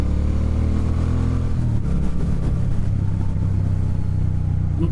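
A Triumph Speed Twin motorcycle's engine rumbles loudly and close, a deep, steady throb with a slight shift in pitch as the throttle changes, with no voices over it.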